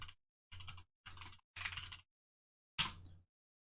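Quick bursts of keystrokes on a computer keyboard, five short clusters of clicky typing separated by pauses, close and fairly quiet.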